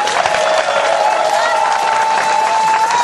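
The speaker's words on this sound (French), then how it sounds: "On peut applaudir le docteur, s'il vous plaît." An audience applauds a doctor at a festive community health campaign, steady dense clapping with some crowd noise and a faint sustained tone running through, continuous at moderate loudness for a few seconds.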